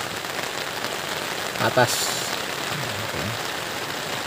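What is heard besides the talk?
rain falling on a mountain trail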